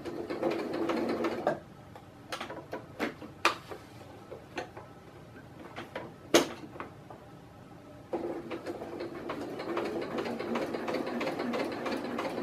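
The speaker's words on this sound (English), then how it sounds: "when I'm working on this heavier material, the machine doesn't like to cooperate if I go really fast, so it makes sense to sew a little slower" A domestic sewing machine with a regular needle stitches heavy shoulder strap material for a folding table, running in slow bursts of ticking stitches with pauses of clicks between, then a steadier stretch of sewing at the end.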